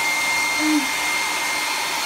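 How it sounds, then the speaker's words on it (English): A blow dryer drying a Saint Bernard dog runs as a steady, close, continuous whoosh of air, with a brief low tonal hum partway through and no talking over it. "drying with the blow dryer"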